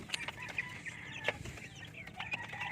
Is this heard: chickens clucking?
yes